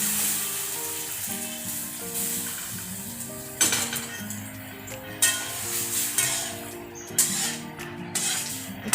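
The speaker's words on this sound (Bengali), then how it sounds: "এবারে সিদ্ধ করা লাউটা ঢেলে দিলাম" Boiled bottle gourd tipped into a pan where ginger paste and a green chilli are frying, in Bengali home cooking: a steady sizzle with sharp clatters of utensil against pan, close and fairly loud.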